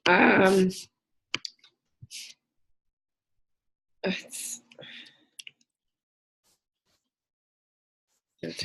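A few sharp mouse clicks, spaced irregularly, close up, with quiet breaths and brief rustling between them and long stretches of near silence.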